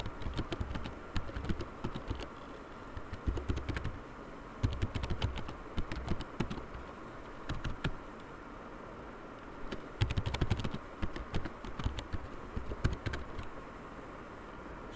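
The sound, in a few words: typing a password on a computer keyboard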